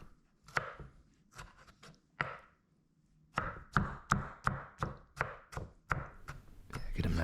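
Knife dicing a tomato on a cutting board for a chopped cheese sandwich: close, crisp chops, a few spaced strikes and then a quick regular run of about a dozen, with no talk.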